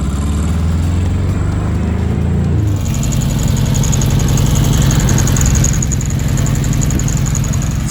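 A classic VW Beetle air-cooled engine idles roughly and unevenly after losing what seem to be two cylinders, a loud close-up lumpy drone with a shift in tone partway through and a faint high whine above it.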